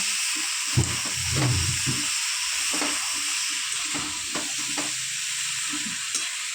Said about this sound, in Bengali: এবার ঘাটিটা নাড়বো, একটু নেড়ে চেড়ে ঢেকে দিব সেদ্ধ হওয়ার জন্য।